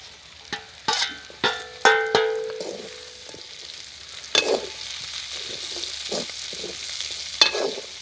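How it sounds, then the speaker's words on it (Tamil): Eggplant and pre-fried dried fish go into a hot pan in a village kitchen, giving a few sharp metallic clanks of a utensil against the pan over a steady, soft sizzle. "கத்திரிக்காய் வதங்கி வந்துட்டுது இப்போ நான் கருவாட்டை போடுறோம் பொறிச்சு வச்சுருந்த கருவாட்டை"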